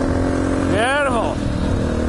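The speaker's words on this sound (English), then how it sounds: "The big Husaberg 570 wheelie up the road." A big Husaberg 570 motorcycle wheelies up a road on Condamine River Road. Its engine note rises and falls in one quick pass near the middle, under steady background rumble, with a voice heard.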